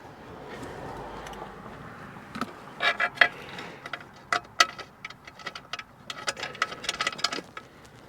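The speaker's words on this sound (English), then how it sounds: "So now we're taking our 11mm self-tapping fasteners. We're going to thread these in here." 11mm self-tapping fasteners are threaded into a console vault safe in a 2018 Jeep Grand Cherokee, giving irregular bursts of close, sharp ticking and ratcheting clicks that grow busier toward the end, with no voices.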